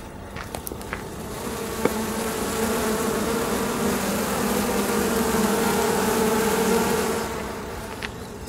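A dense mass of about 3,000 bees with a queen hums inside a tube with a steady, muffled buzz, with a few light knocks near the start.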